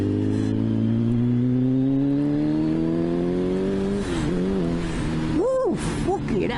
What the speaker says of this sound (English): That's what happens when you spin round on gravel.